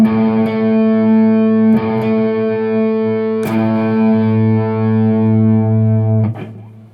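Distorted electric guitar sounding an octave interval on the bass strings, with several sustained, buzzy notes that ring out one after another in a steady sequence and fade at the end.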